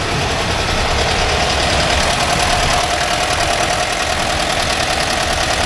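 A 1982 air-cooled VW Vanagon Westfalia engine running steadily after a tune-up, a loud, constant close-up whirring drone with a rattly, knocking edge and no talk.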